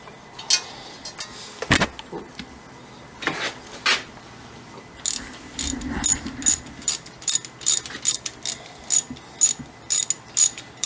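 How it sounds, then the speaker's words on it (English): Ratchet wrench tightening brake caliper bolts on a 2018 Nissan Rogue, with a few scattered clunks and scrapes of handling followed by a fast, even run of close clicking ratchet strokes. "just tighten up your caliper bolts"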